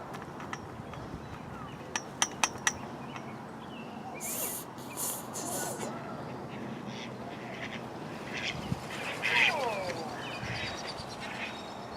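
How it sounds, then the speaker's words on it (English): Ducks quacking and flapping around outdoors among other birds: scattered distant quacks and calls, a few sharp close clicks and bursts of wingbeats over a steady open-air background. "Ducks flying around everywhere"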